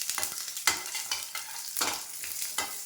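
Onions fry in a pan for guava chutney, a close and steady sizzle with repeated scraping strokes of a stirring spoon and no talk.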